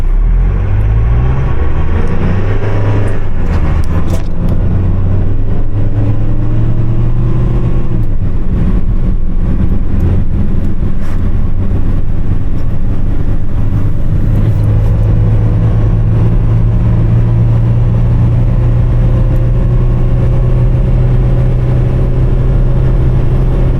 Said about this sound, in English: I'm going to put in a sport, and I'm going to do a quick acceleration.